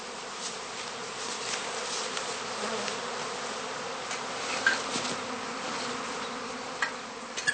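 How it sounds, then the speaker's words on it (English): Swarming honeybees at a heather skep apiary during cast swarming, a steady, dense buzzing hum of many insects filling the whole stretch, with a few brief nearer bee passes standing out. "swarming bees soon form a new cluster again"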